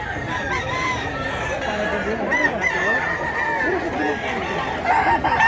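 Roosters and hens at an outdoor chicken market in Mantalungon, Cebu, crow and cluck in overlapping calls amid a busy crowd murmur and nearby voices.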